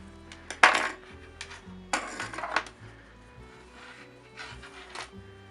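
A few short metallic snips of scissors cutting knitting yarn, one sharp cut followed by a quicker double snip, then faint handling noises.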